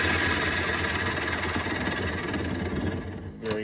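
Carbide scraper tool riding the surface of a spinning wooden bowl on a lathe, a loud continuous droning hum with a steady scraping texture that eases slightly near the end.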